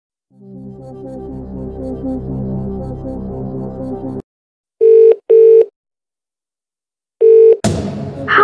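Phone-a-friend lifeline in a video game quiz show: a sustained musical tone bed, then three short electronic dialing beeps in a row, followed by a noisy burst, loud and clear with no talking.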